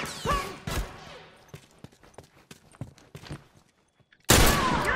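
Revolver shots from a video game shooter pop out as several sharp, fairly close cracks, with scattered clicks and footstep-like taps between them and a loud burst of noise near the end.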